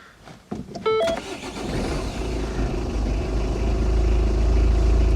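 A stone-cold 2013 Ford Focus 1.6 diesel cranks briefly with a whine, then catches and settles into a steady, loud, close diesel idle clatter that carries on to the end.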